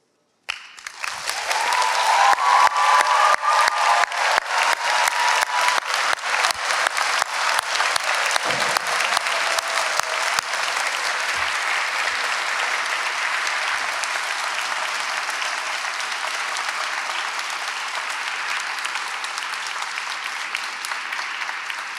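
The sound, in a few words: graduation ceremony audience applause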